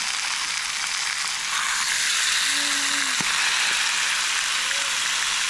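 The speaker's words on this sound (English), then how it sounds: "Nothing better than sizzling bacon on a cold fall morning." Bacon sizzling in a pan at a tent campsite on a cold, below-freezing morning, a steady, close crackling hiss that runs throughout, with a faint squeak or two over it.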